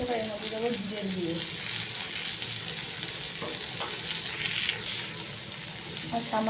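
Cumin frying in oil in a pan gives a steady, close sizzle with occasional stirring scrapes, fairly quiet and continuous throughout.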